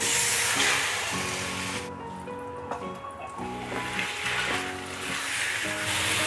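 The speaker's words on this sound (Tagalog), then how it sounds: "Haluin lang natin ng haluin hanggang sa mag-brown yung ating liempo." Pork belly (liempo) sizzles and spatters in hot oil in a pan as it is stirred, giving a steady close hiss with brief quieter dips.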